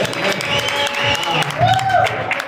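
Audience applause at a live panel event, a steady wash of clapping with crowd noise and some voices mixed in, fairly loud and continuous throughout.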